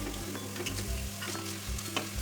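Minced meat and onions sizzle in a pan for a spinach dish while being stirred, with soft scraping strokes and steady crackling frying throughout.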